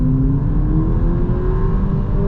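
A 2025 Volkswagen Polo GTI facelift engine revs up, a loud close rising drone that climbs steadily in pitch throughout the short burst, with no voices over it.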